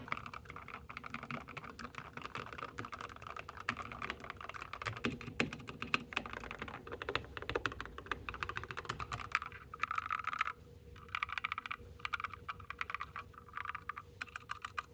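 Rapid, soft clacking of a modded mechanical keyboard with foam and lubed switches being typed on continuously, muted and thocky, with brief pauses between bursts.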